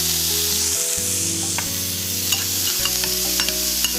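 Onion cooks in a pan with seasoning of pepper and nutmeg, giving a steady crackling sizzle under a low, shifting background tone, with occasional stirring clicks and no talk.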